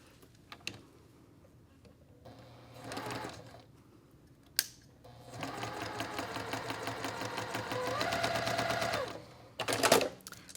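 Sewing machine stitching quilt fabric along a marked line at a short 1.5 stitch length for a tiny Ohio Star block, running in bursts of rapid, steady stitching with pauses and small clicks between, close and moderately loud.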